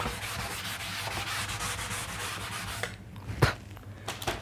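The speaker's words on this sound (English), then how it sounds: "I have to rub this out" Someone rubs writing off a board in steady, continuous scrubbing strokes that stay close and moderately loud. The rubbing stops near the end, followed by a sharp knock and a few light taps.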